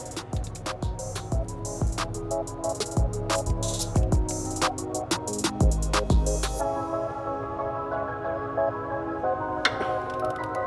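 A ratchet with a 14mm socket loosens a motor mount bolt on an FRS/BRZ/86 in a series of sharp, close metallic clicks. The clicks come in quick bursts for several seconds, then stop, leaving a quieter ringing tail.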